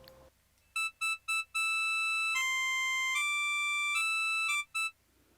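A bright electronic chime melody, a custom town tune from Animal Crossing: New Horizons: three short staccato notes, then a held fanfare-like phrase with stepping pitches, ending in two quick notes, clear and alone.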